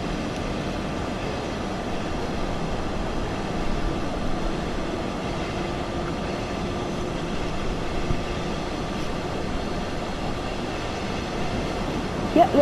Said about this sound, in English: We're now departing from Aschaffenburg Hauptbahnhof.